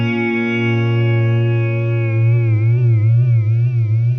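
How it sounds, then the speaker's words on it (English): A sustained, distorted electric guitar tone through an Old Blood Noise Sunlight pedal tape warble effect, beginning steady, then wobbling in pitch with a slow, wavering tape-like warble, loud and alone. "we're really getting the warble of the tape effect there"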